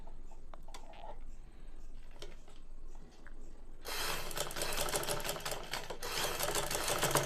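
A sewing machine stitches a square cloth neckline, starting after a few seconds of quiet handling noises and then running steadily and fairly loudly to the end, with no talking.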